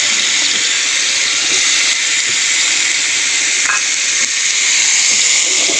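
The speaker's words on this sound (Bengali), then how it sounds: "চলো মাছগুলো আগে ভেজে নেব পুরো এক এক করে" Fish pieces fry in hot oil in a pan for fish kalia, making a loud, continuous sizzling hiss that stays steady throughout, with a faint clink or two of a utensil and no voices.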